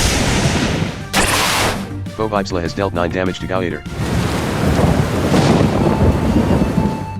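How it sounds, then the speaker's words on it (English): A Thunderstorm attack in the video game Manamon 2 roars as a loud, continuous wash of crashing thunder and rain-like noise. A voice briefly announces battle damage partway through. "Foe Vipsla used Thunderstorm."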